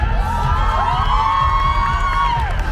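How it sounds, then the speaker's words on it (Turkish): A graduation ceremony crowd cheers and whoops loudly and continuously, with one long shrill rising shout carried over the dense, sustained roar of many voices. "mezunlarımızı alkışlıyoruz şimdi de"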